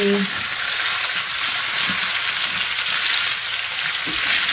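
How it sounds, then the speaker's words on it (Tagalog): Potatoes sizzle in hot oil in a pan, a steady bright crackling hiss that holds throughout at close range, with a few faint soft knocks underneath. "piniprito lang natin yung patatas para mas malinam yan"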